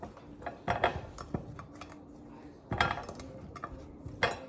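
Potatoes dropped into a bowl in a kitchen while a seafood bake is prepared: a scattered series of light clattering knocks and taps against the dish, soft and close, without speech.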